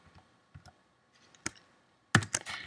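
A computer keyboard used for typing Java code: a few sparse, quiet keystrokes at first, then a sharper cluster of louder clicks near the end.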